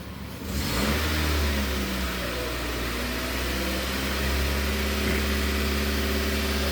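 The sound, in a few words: Nissan QG15 engine revving under acceleration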